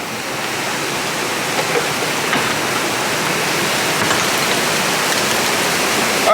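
A torrential summer downpour in Pittsburgh, a dense, steady hiss of heavy rain that is loud and unbroken throughout, with no voices.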